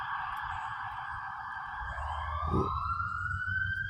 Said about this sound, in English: I hear this damn ambulance.